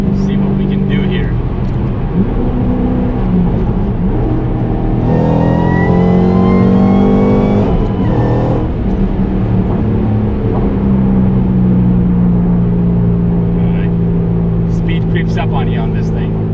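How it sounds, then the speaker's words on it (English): 2013 Shelby GT500 with a JLT cold air intake accelerating hard through a pull, its supercharger whine rising over a steady engine roar, close and loud, with a brief shift midway. "I love the supercharger whine that the JLT cold air intake does"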